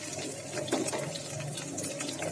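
Crushed garlic goes into hot tempering oil for tomato thokku, raising a steady, close frying sizzle that holds without a break for the whole moment, with no voices over it.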